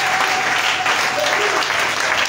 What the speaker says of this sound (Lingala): Acclamez d'abord pour lui.